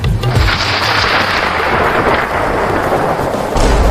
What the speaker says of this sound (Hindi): मम्मी बादल गरज रहा है और बिजली भी गिर रही है।